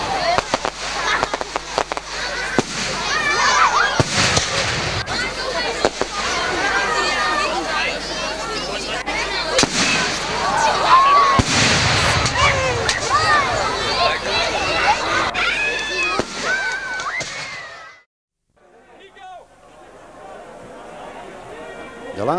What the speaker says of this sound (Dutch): De vrijdag erop was er een groot vuurwerk aangeboden door de kermisexploitanten.